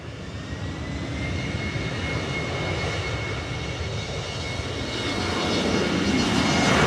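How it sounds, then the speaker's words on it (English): A KLM jet airliner departs Manchester Airport for Amsterdam, its engines producing a broad, loud roar that swells steadily as the aircraft accelerates, heard from a distance. "Departing back to Amsterdam now is KLM flight"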